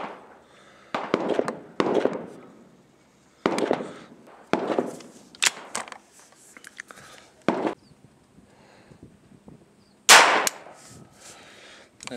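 Rounds of .22 LR ammunition are fired from a 12-gauge shotgun outdoors: about eight sharp, loud shots spaced unevenly over several seconds, each with a brief echoing tail, with no talk.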